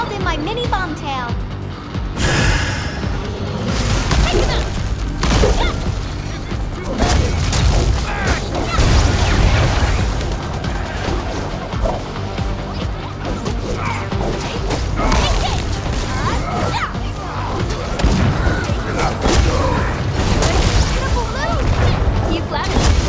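Heavy booms and crashing blasts from bomb explosions in the Arknights: Endfield game, loud and dense throughout under a busy mix, with voices talking over them.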